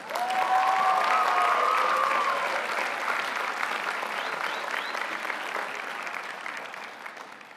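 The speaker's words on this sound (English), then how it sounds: "I'm going to pause so you can applaud" A university commencement crowd breaks into sustained, loud applause that gradually thins out over several seconds, with a brief tonal sound early on and faint cheering mixed in.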